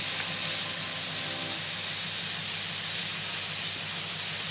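Prawns cooking in a pan while pasta boils nearby, a loud continuous hiss and sizzle of steam with a low steady bubbling rumble underneath, no voices.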